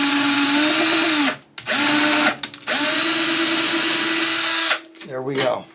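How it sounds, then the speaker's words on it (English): A power drill boring through the top of a 1965 Ibanez Jamboree guitar, close and loud in three long whining runs separated by brief stops, ending with short stuttering bursts. "And I'm going to drill through here like so."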